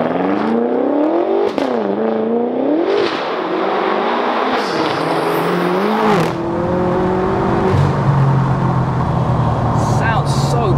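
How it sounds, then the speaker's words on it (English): Fully forged 900bhp BMW M6 engine revving hard and rasping on lift-off, repeated rising and falling revs with crackles, close and loud, with people talking over it. "Sounds so good. The rasp you get as you lift off."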